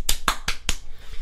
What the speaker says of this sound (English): That was a clap, not the clap.